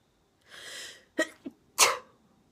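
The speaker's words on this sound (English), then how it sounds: "I'm going to sneeze again." A drawn-in breath followed by a couple of short catches and then one sharp, loud sneeze, close to the listener.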